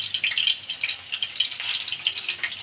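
Mashed bhorta frying in hot oil in a home kitchen, a steady bright crackle and sizzle with scattered pops, close and fairly loud.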